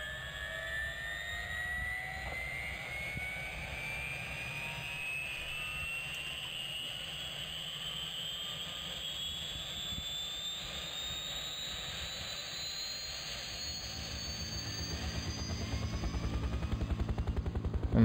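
A helicopter in Farming Simulator 2017 spools up from a start, a steady rising turbine whine with a low rotor throb that grows louder and faster toward the end, with no talk.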